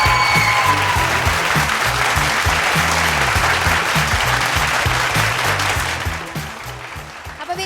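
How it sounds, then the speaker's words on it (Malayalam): Audience applause welcoming a ventriloquist on stage at a Kozhikode show, a steady dense clapping that fills the room and fades slightly toward the end. "ഒരു വലിയ കൈയടി കൊടുത്ത് വിനോദ് സാറിനെ നമുക്ക് സ്വാഗതം ചെയ്യാം."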